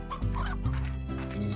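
Clucking fowl calls from a chicken in the video game Slime Rancher, a few short nasal bursts close and clear with no speech.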